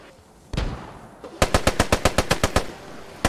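Gunfire in the video game Post Scriptum: one loud shot, then a rapid burst of about ten evenly spaced automatic rounds, then a single final shot, close and loud.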